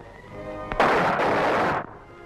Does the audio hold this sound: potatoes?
no